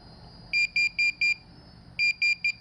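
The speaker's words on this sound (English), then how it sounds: "got the Profine 35 set up. Let's turn it on. Now this thing has a loud speaker." Minelab Pro-Find 35 pinpointer held over a quarter coin, sounding loud, sharp electronic beeps in two quick bursts of four and three evenly spaced pulses, with nothing else audible.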